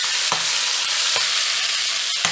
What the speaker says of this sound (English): Now I'll fry the prawns. I put the marinated prawns.